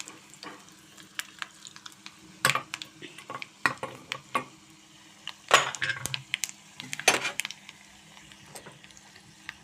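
Three dried red chillies frying in hot oil in a kadai pan for gongura chutney, a soft crackle under scattered sharp clinks and stirring taps of a spoon on metal, close and fairly quiet.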